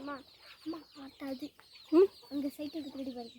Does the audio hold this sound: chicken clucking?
yes